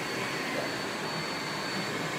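A vacuum cleaner runs steadily on carpet, a loud, continuous motor whine and airflow roar that holds level throughout with no talking.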